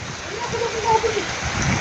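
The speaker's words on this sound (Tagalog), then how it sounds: "Ang lakas ng ulan, oh." Heavy rain pours down in a steady, dense hiss, drumming continuously with a faint tonal murmur beneath it.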